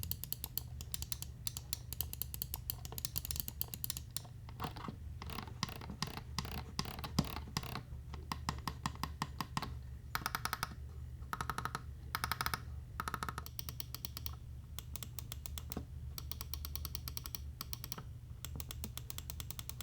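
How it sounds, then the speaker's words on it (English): Close, rapid clicking of the buttons and scroll wheel on a Razer Mamba Wireless mouse: dense, crisp clicks repeating continuously for about twenty seconds, with no talking. "every button, the side buttons, the front buttons, the scroll wheel, very clicky, very pronounced, and just very, very solid"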